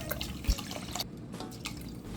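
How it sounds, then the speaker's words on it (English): Rice being rinsed in water for coconut rice, with soft drips and sloshing liquid sounds close by, steady and moderately quiet throughout. "Wash the rice."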